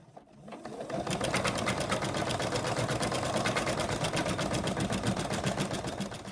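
An embroidery machine stitches the outline of a toy monkey's ear into stabilizer in the hoop, a steady rapid needle clatter that holds loud and even from start to finish without pause.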